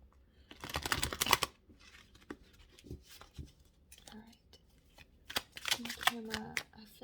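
Tarot cards shuffle in two quick, close bursts of riffling and flicking, separated by quieter card handling, with a voice speaking softly in between.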